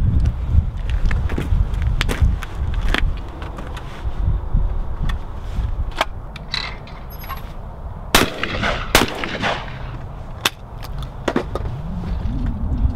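A rifle with a cast and twisted stock fires outdoors, giving a string of sharp, loud cracks spaced irregularly over a constant background rumble.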